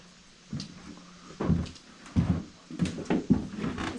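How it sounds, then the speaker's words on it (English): An old screen door at a historic Kansas ranch house opens and shuts, giving a few separate knocks and creaky thumps close to the microphone, with quiet pauses between them. "love this screen door"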